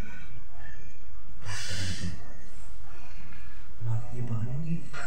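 Loud, heavy breathing comes as a harsh burst of air followed later by snorting, wheezy breaths, with people talking throughout.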